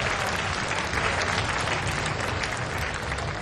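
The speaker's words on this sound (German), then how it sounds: "Kleine Runde Applaus" Dense, steady applause from a large audience at an esports event, continuous clapping without a break for a few seconds.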